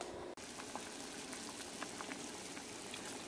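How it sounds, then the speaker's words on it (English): Sorrel drink sweetened with sugar boils in a pot with orange slices, a close, steady bubbling and churning of liquid after a brief cut at the start; no speech. "We want that to come up to a boil"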